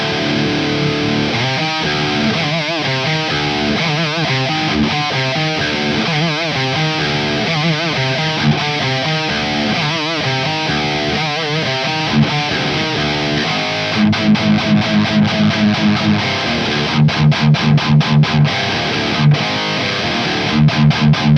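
A Jackson Pro Series 1985 San Dimas electric guitar played through an Empress Heavy Menace distortion pedal, loud saturated chugging riffs that turn into tight, rhythmic palm-muted stabs in the second half.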